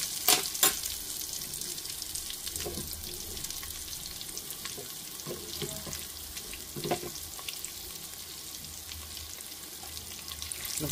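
Mustard and other tempering seeds fry in hot oil, a continuous quiet sizzle scattered with sharp pops and crackles, some louder bursts standing out, no voices.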